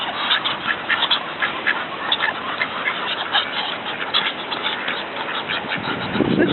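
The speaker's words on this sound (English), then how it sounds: "what does the duck say? Does the duck say quack, quack, quack?" Mallard ducks quack in a close, loud cluster while being fed bread, the calls coming in quick repeated bursts over a steady outdoor background.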